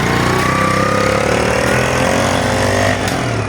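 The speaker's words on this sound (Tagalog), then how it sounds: "At pinaandar natin yung Badjari naka power steering." A Bajaj RE three-wheeler converted to power steering runs with its engine at a steady, loud, close throbbing idle, in a shop setting with no talk.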